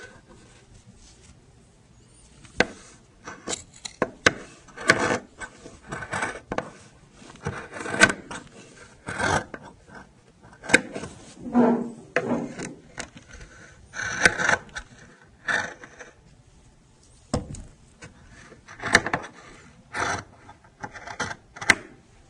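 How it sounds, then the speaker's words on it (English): Scissors cut through shirt fabric on a table, giving a series of crisp snipping crunches in irregular bursts with short pauses, close and clear with no talk. "So you see now I've just cut down the sides to the tops of the pockets."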